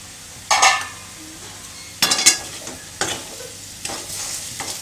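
A spoon breaks up cooked potatoes in a heavy-bottomed pan, giving a few sharp scrapes and knocks against the metal between quieter sizzling gaps, close and alone.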